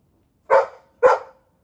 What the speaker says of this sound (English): Is it okay to do that kind of thing when she barks like that?